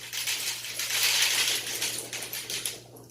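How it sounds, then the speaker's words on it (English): A dense rattling patter of small hard grains spills and scatters across a hard surface, swelling then thinning out over a few seconds. "that sound was rice pouring all over the floor."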